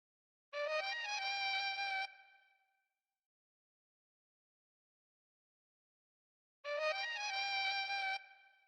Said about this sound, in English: It's an opera violin, and it's from Admirable from Contact